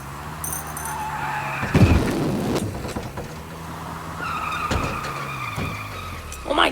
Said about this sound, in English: Oh my god, my car flipped.